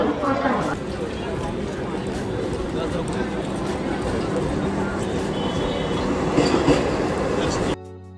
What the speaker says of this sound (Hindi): जितनी देर में हम पहुँचे तो हमारी ट्रेन आ गई